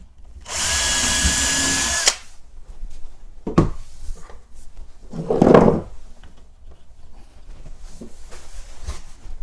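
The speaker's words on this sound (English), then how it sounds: "just get a small drill bit and just drill a pile of hole first" A small power drill whirs steadily for about a second and a half, drilling a pilot hole in skirting board, then stops, followed by quiet handling knocks and rustling.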